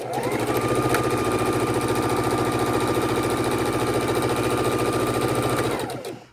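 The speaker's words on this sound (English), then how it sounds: "I'm lock stitching at the beginning and the end of each start and stop point." A sewing machine runs steadily while lock stitching scrappy quilt pieces, a loud, even mechanical whir with a fast needle rhythm that holds for several seconds before winding down and stopping.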